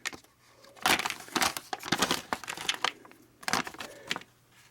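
Crinkly tearing and rustling as taped LEGO Marvel minifigure boxes are pulled open by hand, close-up bursts of cardboard and tape noise in irregular clusters with short pauses between.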